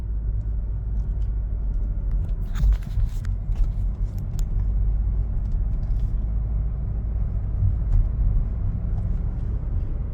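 A car drives through storm-damaged Florida streets after Hurricane Helene, with a steady low engine and road rumble throughout and a few brief clatters partway through, no talking.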